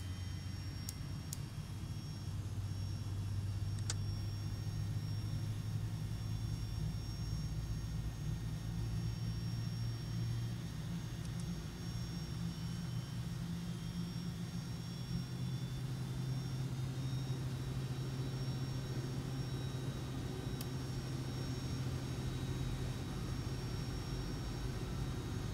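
A constant low jet-engine drone inside the cockpit of a FF757 airliner climbing toward 36,000 feet in the X-Plane 11 flight simulator, an unbroken heavy rumble with a faint high whine on top.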